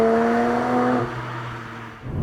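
A sports car engine hums steadily with a smooth tonal drone while accelerating, the pitch settling and fading slightly before rising again at the end.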